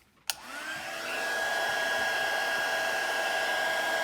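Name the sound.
heat gun blowing hot air on tablet frame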